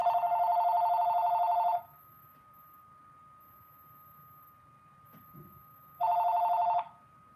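A telephone rings with an incoming call: a long electronic ring burst, then a pause of several seconds and a second shorter burst, loud and close with no talk.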